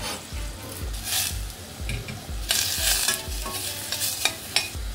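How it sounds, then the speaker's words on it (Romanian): Onion sautés in a pan for a fish-stock sauce, with a continuous sizzle broken by repeated stirring scrapes and soft clacks in an irregular rhythm, close and unaccompanied by talk. "Vom căli puțin ceapa."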